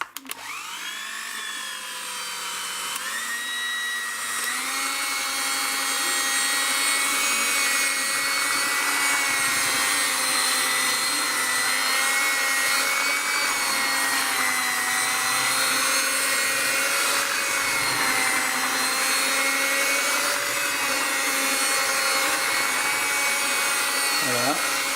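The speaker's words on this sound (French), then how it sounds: "Je vais mixer tout ça" Electric mixer blending bee candy syrup for beekeeping, a loud, steady whirring drone with a tone that rises and wavers slightly as the thick mixture turns, running continuously close up.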